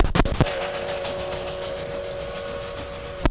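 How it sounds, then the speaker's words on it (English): A steam locomotive whistle from a vinyl sound effects record of British Columbia steam railroading holds one long, steady tone for about three seconds, framed by short bursts of chuffing and surface noise at each end. "it's the action sounds of steam railroading in British Columbia"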